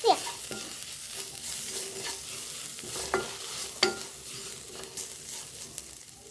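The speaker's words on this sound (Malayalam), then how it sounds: "ഇനി നമുക്ക് നന്നായി മിക്സ് ചെയ്യാം." Coriander powder being stirred into a Palakkad-style ash gourd chicken curry: a steady, close sizzle broken by several sharp spoon scrapes and clinks against the pot, with no talking.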